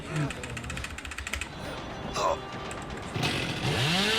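Hillbilly's chainsaw revving in the Dead by Daylight video game, a rough buzzing burst rising in pitch, heard under busy game noise and speech.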